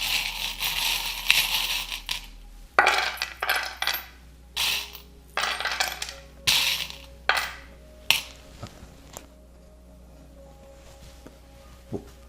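Small metal charms being shuffled and cast for a divination reading, heard as a series of sharp clattering, clinking bursts in an irregular rhythm that thin out into scattered faint taps toward the end.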